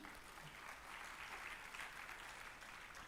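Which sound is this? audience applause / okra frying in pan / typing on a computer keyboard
audience applause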